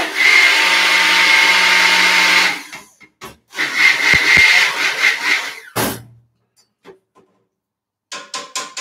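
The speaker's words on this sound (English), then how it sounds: "So I'm going to blend this." A blender mixes soap batter in loud whirring bursts: a long run, a short pause, a second run, then brief stop-start pulses and quieter taps in between.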